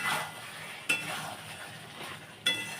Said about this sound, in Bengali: আমি দেখুন এটা নাড়ছি।